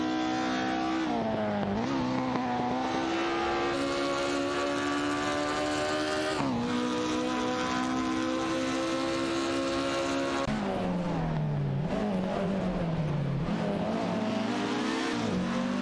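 Race cars in a video game racing league roar continuously at close range, engines rising and dropping in pitch as they accelerate and overtake, with no talk.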